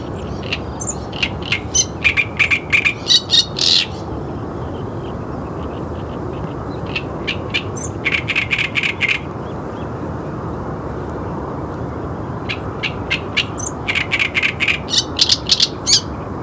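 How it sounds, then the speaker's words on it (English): Harsh, grating great reed warbler song from a reed bed in loud bursts of churring, chattering phrases, separated by pauses with a steady background hiss. "It is the great reed warbler"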